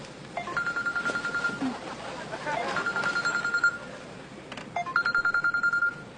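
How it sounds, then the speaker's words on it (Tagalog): A phone rings with an incoming call, sounding as repeated bursts of a warbling electronic ring with pauses between them, fairly close and clear over faint room noise. "Oh, may tumatawag sa'yo."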